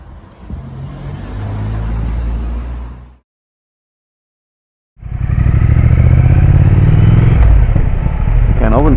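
A Triumph Scrambler 900 motorcycle on a ride, a loud steady engine drone with wind rush, cutting out briefly before resuming stronger, with a rider's voice talking over it.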